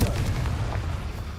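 Confringo blasting spell cast in the Hogwarts Legacy video game, a dense, rumbling low-end burst that holds steady for the whole moment, booming like sustained artillery.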